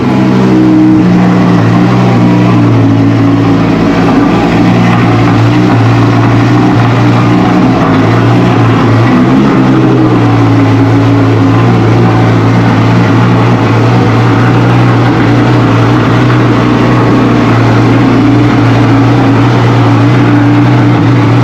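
A gated-manual Audi R8 V10 running in an unmodified state, its deep steady engine drone sustained loud and close for the whole stretch with slight shifts in pitch, no voices over it.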